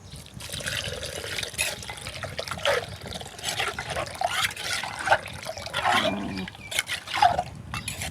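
Green yanang leaf juice is poured into a pot of pounded rice for a Lao-style bamboo shoot curry, giving a steady trickle and splash of liquid for several seconds, close and fairly quiet, with no talking.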